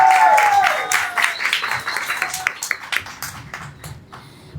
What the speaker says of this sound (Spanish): voy a pedirles otra vez un voto de aplausos